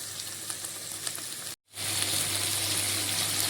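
Mixed vegetables and tomato fry in a pan for a vegetarian dish, a steady, close, hissing sizzle that cuts out for a moment and then returns louder and fuller.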